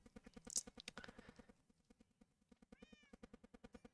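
A cat meows repeatedly in the Minecraft video game, the sharp calls standing out over a steady rhythmic clopping game sound, with faint talk in the background.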